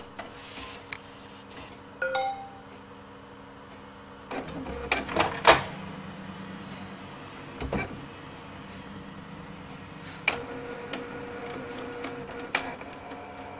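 An inkjet printer whirs and clunks through a startup sequence after being switched on, with scattered clicks and a short mechanical grinding burst, in a quiet room.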